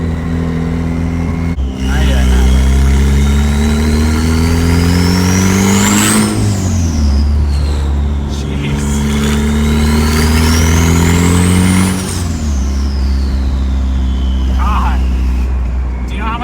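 Turbocharged manual car accelerating hard, the engine revving up through rising pitch sweeps, dropping at each gear change and climbing again, loud and close from inside the cabin.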